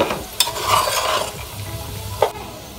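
Chana dal roasts for halwa while a spoon stirs it in the pan, giving loud scraping strokes and two sharp clacks over a low, busy sizzle; no speech.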